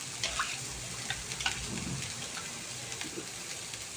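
Rava dosa batter with onions sprinkled in, made with ragi flour, poured onto a hot pan, giving a steady hissing sizzle that stays soft and even throughout, with no one talking.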